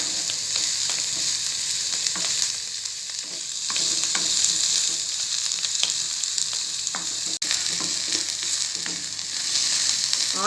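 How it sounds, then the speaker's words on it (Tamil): Onions sautéing in a pan for creamy mushroom soup, a continuous close sizzle with occasional crackles and soft stirring scrapes, steady and fairly loud with no talking. "இப்போ ஆனியன் ஆட் பண்ணிக்கலாம். ஆனியன் நல்லா வதங்கி வரட்டும்."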